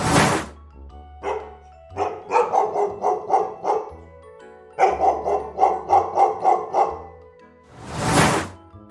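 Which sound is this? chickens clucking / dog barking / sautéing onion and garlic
dog barking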